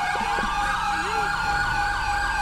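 Police siren in GTA 5 from a huge Scania truck police car, its steady wailing tones loud and continuous across the whole stretch, with faint engine rumble beneath.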